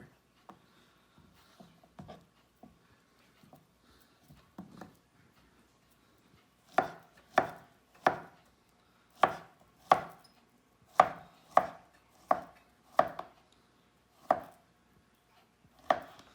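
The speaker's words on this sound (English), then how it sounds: "Next, I'm going to finish cutting my other banana." A knife chops a banana into half-inch pieces on a board, with light, scattered taps at first and then a run of about a dozen crisp, evenly spaced cuts, fairly faint and close, with no voices.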